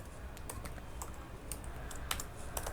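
Code being typed on a computer keyboard while building a PHP and JavaScript AJAX form: steady, uneven clusters of close key clicks over a low room hum, with no talking.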